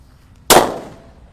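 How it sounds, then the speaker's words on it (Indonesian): A single sharp bang from a Gorilla firecracker bursts out of near silence, loud and close, then decays quickly with a brief ringing tail. "Selanjutnya kita nyalakan mercon Gorilla ya."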